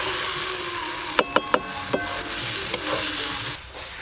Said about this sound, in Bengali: এবার ওপর দিয়ে ভেজে রাখা বেগুনগুলো দিয়ে ভালো করে মিশিয়ে নেব